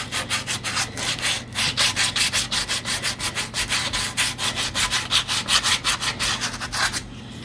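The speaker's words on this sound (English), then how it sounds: "This is the kind of sanding it's very hard to achieve with a machine of any kind" Coarse-grit sandpaper rubs a wooden surface by hand in steady, rhythmic back-and-forth strokes, close and loud, continuing for several seconds before stopping.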